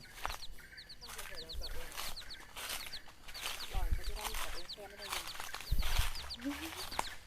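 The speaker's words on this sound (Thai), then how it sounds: "น้องไก่กลัวตก มานั่งที่คอเลยครับ" A chicken perched on a man's shoulder gives soft, close clucks while he walks among large golden champak trees at a rural home; he talks over the clucks, and small birds chirp nearby.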